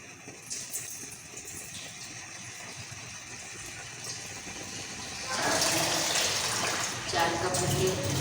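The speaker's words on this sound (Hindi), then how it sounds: "इसको धो के भिगोते हैं, इसका पानी निकाल देते हैं" Four cups of rice being washed in water for beef mandi, a soft background hum at first, then louder rushing and sloshing water in the second half.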